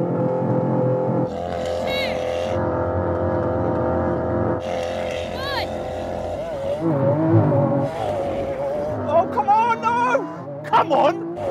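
A McLaren 720S Spider and a Lamborghini Aventador idle loudly at the line before a drag race launch, with engines droning, short revs and rising whines, while excited voices shout over the cars.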